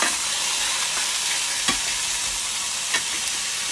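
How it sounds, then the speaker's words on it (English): Chicken searing in an iron skillet over high heat, giving a dense, steady, loud sizzle with a few faint pops and no talking. "You want to keep this up on a little bit of high heat because you're searing in that good flavor"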